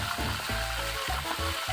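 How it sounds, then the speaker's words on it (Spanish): Mojarra fish fry in hot oil with garlic and onion, giving a steady, dense sizzle with soft crackles and low bubbling throughout, close and continuous. "Y así seguimos friendo las demás, ponemos ajo, cebolla y agregamos el pescado."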